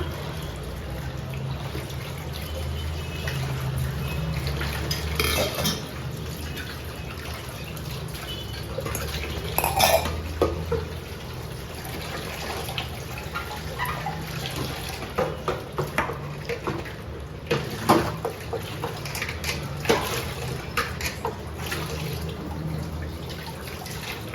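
Dishes get washed in a kitchen sink piled full of pots, with running tap water, drips and splashes, and scattered clinks and scrubbing knocks of vessels, close and moderately quiet throughout.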